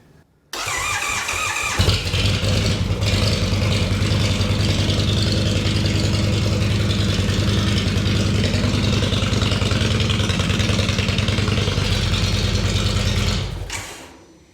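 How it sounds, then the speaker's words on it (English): A motorcycle engine cranks and fires, then idles loud and close in a steady, even rumble for about twelve seconds before cutting off, with no talking. "what I'm going to show you next is what happens when I start the bike"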